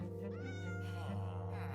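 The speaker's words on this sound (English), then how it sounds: "Oh, we got a black cat." A black cat in a Minecraft-style video game meows twice in quick succession, clear and close, with drawn-out, whiny, tonal calls over a steady low hum, no talking.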